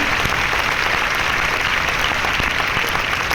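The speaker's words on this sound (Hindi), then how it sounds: "डॉक्टर लिम के लिए बहुत बड़ी ताली होनी चाहिए" Dense, steady audience applause from a crowd honoring Dr. Lim after a talk on health and illness, loud and continuous throughout with no pauses.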